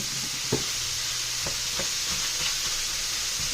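Chopped onions fry with browned hamburger meat in a pan, a steady close sizzle with a few soft stirring scrapes and taps scattered through it.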